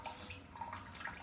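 Toto Washlet bidet toilet seat spraying water at medium pressure, a faint, short hissing spray that runs steadily with no talk over it.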